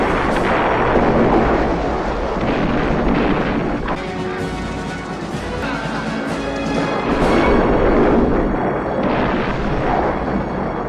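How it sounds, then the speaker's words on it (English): Battle explosions from the 1984 war film Red Dawn, loud sustained booming rumbles and blasts layered with a swelling orchestral score throughout. "big glorious music and an explosion that's shown twice"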